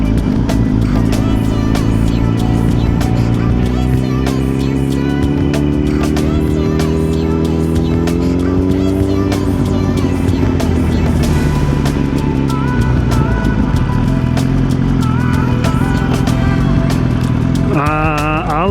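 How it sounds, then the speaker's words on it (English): A car passes on a road, its engine hum rising and falling in a steady drone that carries through the whole stretch, loud and close, with a brief higher whine near the end. "Car."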